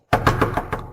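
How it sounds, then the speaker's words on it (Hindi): Knocking on a door at midnight, about five quick, firm raps in a rapid even rhythm, close and loud, with no voices. "आधी रात को ये क्या खटखटा रहे हो?"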